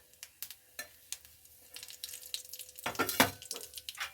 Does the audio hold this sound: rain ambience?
no